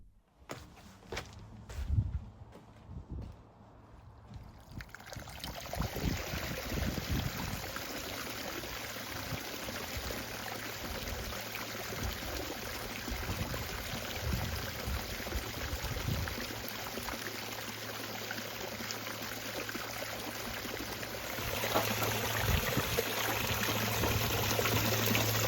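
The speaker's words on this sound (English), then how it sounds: "let's turn this waterfall on." A garden pond waterfall in a raised semi-formal pond build starts up after a few seconds of quiet, then pours and splashes in a steady, close, continuous rush that swells slightly toward the end.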